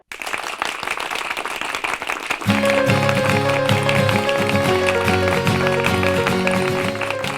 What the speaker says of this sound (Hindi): इसी बात पर सबकी जोरदार तालियां हो जाए